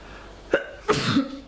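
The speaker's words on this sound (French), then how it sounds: "Et j'ai envie d'éternuer." A single person's sneeze, sharp and close, with a brief intake burst followed by a louder explosive release, alone in a quiet room.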